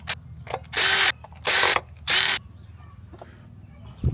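A power drill removing the spark plug cover on a Mitsubishi Eclipse engine gives three close, loud whirring bursts, each under half a second, with quiet pauses between them.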